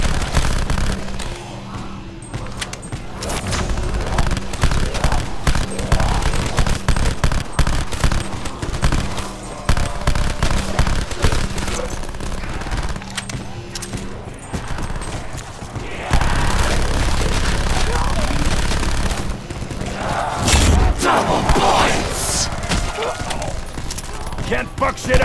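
Sustained automatic gunfire and heavy bursts fill a Call of Duty Black Ops 4 zombies round, loud and nearly continuous, with a player talking over the shooting.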